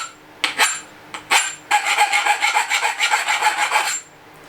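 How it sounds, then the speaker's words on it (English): A metal file rasping across the rough cut edge of a mountain bike fork steerer tube, two short strokes followed by a longer run of quick, even back-and-forth scrapes, close and clear with no talk. "Just filing the rough edge off."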